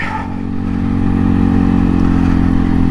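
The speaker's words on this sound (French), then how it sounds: "Le moteur, il a l'air à vouloir, mais la CVT, elle écrase bien gros." Segway AT6 SX 570 ATV engine droning steadily through its CVT while climbing a hill, a loud sustained mechanical tone that rises slightly and holds with no speech over it.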